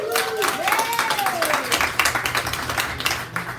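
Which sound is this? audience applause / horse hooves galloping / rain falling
audience applause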